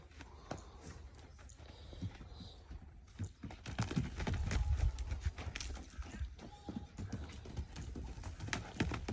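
Young horse of Indian stock trotting in circles on a lunge, hooves clip-clopping in a steady rhythm close by, with occasional rustling and a faint voice in the background.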